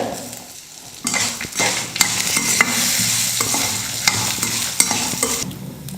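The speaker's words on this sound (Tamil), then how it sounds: "உளுந்து தேங்காய் புளி வரமிளகாய் எல்லாமே நல்லா வறுந்துடுச்சு" Urad dal, coconut pieces, tamarind and dried red chillies dry-roasting in a pan, with a brisk scraping stir and crackling sizzle up close that pauses briefly then resumes steadily.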